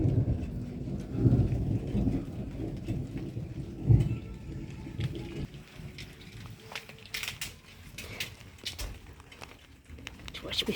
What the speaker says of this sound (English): Missed the lightning, but I didn't miss the thunder.